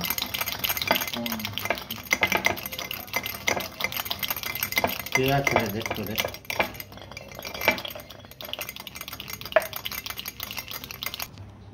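A spoon rapidly beats coffee powder, sugar and a little water into whipped coffee, giving continuous scraping and clinking against the cup with a steady stirring rhythm, close and fairly loud, with a few brief pauses.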